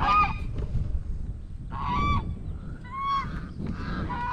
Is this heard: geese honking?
yes